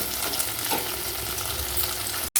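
Okra frying in a pan for a vegetarian dish, a steady close sizzle with light stirring throughout, cut by a brief silent gap just before the end.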